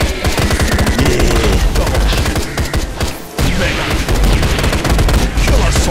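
Rapid turret fire from the sci-fi shooter Orion: Prelude, a dense, loud fusillade of overlapping shots that pauses briefly and then resumes just as heavily.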